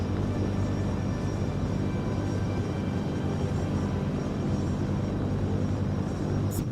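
A Tupolev bomber in the War Thunder air battle game drones with a steady, even engine hum that stays constant throughout, with no voices over it.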